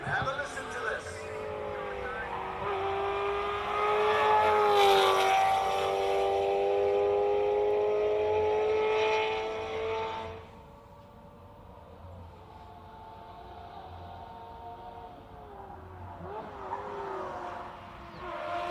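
A classic race car at the Simola Hillclimb, its engine note climbing steadily and loudly under a commentator's voice, then dropping away after a downshift and picking up again.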